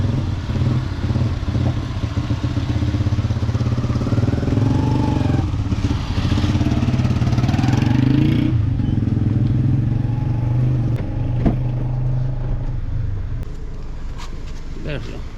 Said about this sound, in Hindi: ये हमारी गाड़ी आ चुकी है